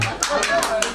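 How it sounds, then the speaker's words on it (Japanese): Audience applause at a live concert in Shibuya, a short burst of clapping with a few sharper individual claps, fairly close, under light background murmur. "大きな拍手"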